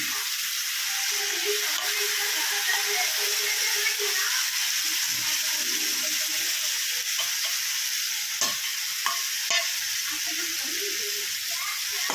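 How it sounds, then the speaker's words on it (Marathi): Moong dal sautéing in oil for a potato bhaji, a close, steady, hissing sizzle throughout, with stirring scrapes and a few sharp clicks in the later seconds. "तेलावर थोडंसं परतून घेणार आहोत"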